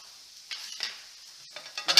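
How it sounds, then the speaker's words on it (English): Vegetables being stir fried in a pan, with short bursts of sizzling and scraping as they are tossed and stirred, growing louder toward the end. "Stir fry."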